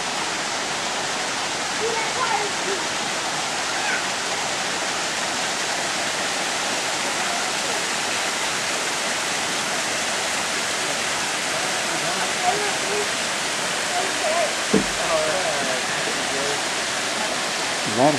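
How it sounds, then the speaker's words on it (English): Water rushes down a stream or small waterfall on South Mountain, a steady, even wash of noise that holds for the whole stretch with no breaks. "Water."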